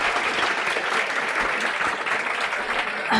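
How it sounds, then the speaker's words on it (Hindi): Students in a CA Foundation lecture hall clap for themselves, a dense, continuous burst of applause from a crowd that stays steady and fairly loud throughout with no talk over it. "मैं चाहती हूँ एक बार आप लोग जोरदार तालियां अपने लिए बजा दें"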